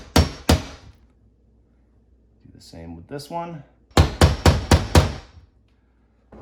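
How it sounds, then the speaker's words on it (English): Two sharp metallic taps of a hammer on a nail set marking a cabinet handle hole, someone speaking briefly, then a quick series of five hammer taps in a steady rhythm, close and loud. "take a nail set and hold it right to where the center of that mark is, and just give it a little tap"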